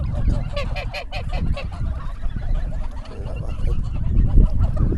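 A flock of geese honks loudly and continuously, overlapping calls forming a noisy, busy chorus close by.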